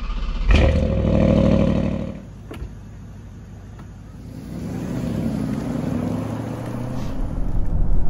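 A 2021 Bentley Flying Spur V8 pulls away with a brief loud thump and rising engine rumble, then settles into a steady low cruising hum with road noise that swells gently toward the end.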